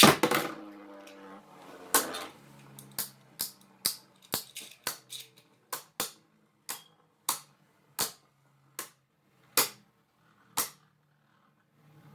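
Beyblade Burst spinning tops are ripped from launchers into a stadium, and a quick burst of rattling is followed by a long run of sharp, separate metallic clacks as they collide, spaced irregularly and gradually slowing.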